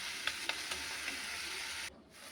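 Tomato sautéing in a pan with turmeric, coriander and cumin powders gives a steady close sizzle, broken by a few soft stirring clicks, then cuts off abruptly near the end.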